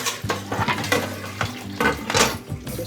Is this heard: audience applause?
no